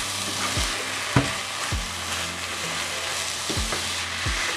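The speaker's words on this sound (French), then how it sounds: "je viens mélanger pour que la viande commence à cuire et qu'en même temps elle prenne un peu le goût de l'ail" Beef sizzles in a pan with onion, carrots and garlic while being stirred, a steady frying hiss broken by repeated knocks and scrapes of the spoon at an uneven pace, close up.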